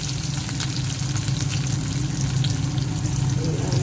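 Onions for ginataang manok, a chicken dish in coconut milk, fry in a pan with garlic, giving a steady close sizzle under a low hum, with a brief spoken word.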